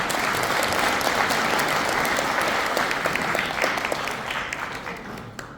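Steady, dense applause from an audience at a Korean hometown association lecture as the chairman is invited to the podium, holding full for several seconds and easing off slightly at the end.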